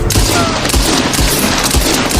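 Pistol gunfire in a cowboy duel rings out as a loud, dense volley of rapid shots and booms that crowd together without pause.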